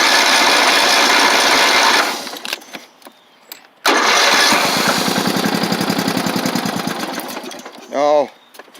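Tractor engine cranking on a cold start with no choke, a loud rapid mechanical chatter that cuts out, resumes after a pause, then sputters and fades with a brief rising whine near the end.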